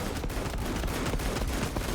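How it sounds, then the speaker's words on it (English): Machine gun fire in Space Marine II, a dense, rapid stream of automatic shots rattling continuously through a brief burst of battlefield noise. "Machine gun."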